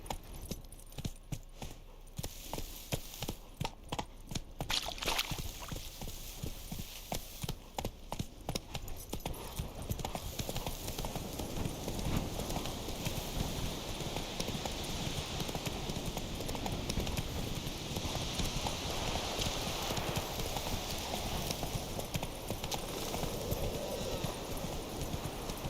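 Horse hooves clip-clop in steady rhythmic beats during riding in The Witcher 3 video game, trotting then settling into a faster continuous gallop with faint jingling tack and ambient game sound.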